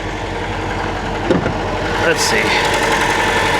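A repossessed Dodge Charger's little 2.0-liter turbo engine runs at a steady, close idle with a low rumble, while a person talks over it briefly.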